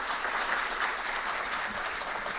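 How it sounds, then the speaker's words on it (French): An audience at a Plan International Haïti community gathering applauds steadily, producing a dense, even wash of clapping with no voices standing out. "sous vos applaudissements"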